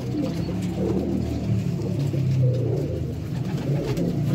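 Pigeons kept for breeding coo softly and steadily in a loft, a low continuous murmur of overlapping calls with no talking.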